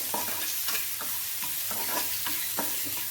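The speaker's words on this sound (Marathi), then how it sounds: "जिंजर गार्लिक पेस्ट टाकून घेत आहे याला आपण छान फिरवून घेऊया" Turmeric, chili and ginger garlic paste stirred into a chili filling in a frying pan, a constant close sizzle with rhythmic spatula scrapes roughly every half second, no voices over it.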